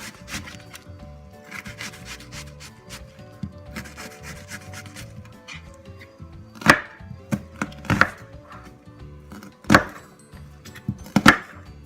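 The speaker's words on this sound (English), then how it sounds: "I'm chopping my onion here" A knife chops an onion on a cutting board, with scraping and rubbing followed by several loud, sharp, irregular chopping strikes heard close up, and no talking.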